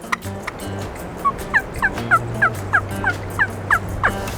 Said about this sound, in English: Oh, outhouse turkey.